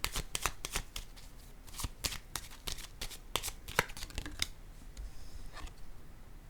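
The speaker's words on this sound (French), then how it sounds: "Je vais déposer une carte ici, sur le guide à l'envers." A tarot card is laid face down onto a printed reading guide, amid a string of sharp card slaps and shuffling flicks, close and fairly quiet, with no talking.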